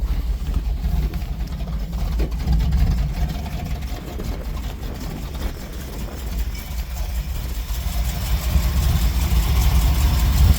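After transport, an engine idles while warming up outdoors in a field with a steady low rumble, moderately loud and close, swelling slightly toward the end with no clear talk.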